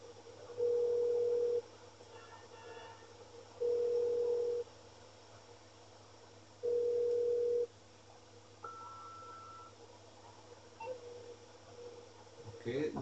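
Three evenly spaced in-game phone tones sound after dialing a number in GTA, each a steady beep lasting about a second, over a low background hum.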